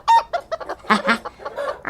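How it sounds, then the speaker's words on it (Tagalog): Chickens cluck loudly and close by in a run of short, uneven bursts, with one louder squawk partway through and no talking. "Umad-adumat ang tipakpakan ng manok."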